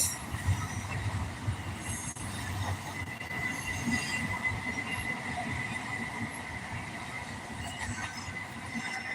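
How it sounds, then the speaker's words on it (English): A train rolls past at close range, a sustained rumble of railcars with squealing wheels and metallic screech running throughout, no voices over it. "There's the end of that there train."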